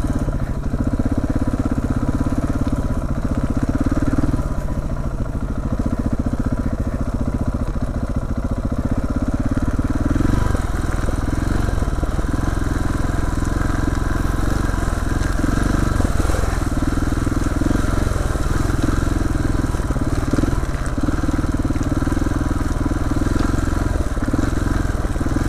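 KTM 690R single-cylinder motorcycle riding a Wessex Ridgeway byway, its engine droning steadily and close throughout with pulsing throttle changes and rough off-road rumble.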